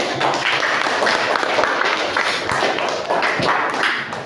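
A classroom group gets a round of applause, dense clapping from many hands that carries loudly and evenly through the whole stretch.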